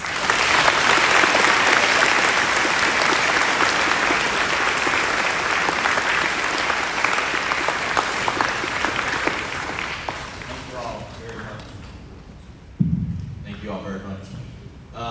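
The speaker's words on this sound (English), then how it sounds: "So please give Colonel Farley a hearty round of applause." A school audience at a Veterans Day program gives sustained, loud applause for a guest, dense clapping that gradually tapers off before a speaker begins talking near the end.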